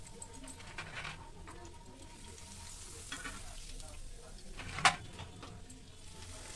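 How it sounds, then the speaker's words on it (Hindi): Potato papad fry in hot oil with a soft, continuous bubbling sizzle, fairly quiet and even, with one brief sharp crackle partway through and no voices. "ये आलू के पापड़ इतने बढ़िया बन रहे हैं और तल के भी निकल रहे हैं बढ़िया तेल"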